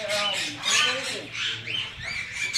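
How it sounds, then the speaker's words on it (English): An African grey parrot in a pet store bird room gives shrill squawks and whistling calls, close by, mixed with chatter from other birds and nearby voices. "Look at the African gray."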